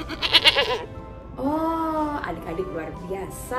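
At a children's church service, a voice imitates a sheep with one drawn-out, wavering bleat. An adult speaks before it, and more voices and chatter follow.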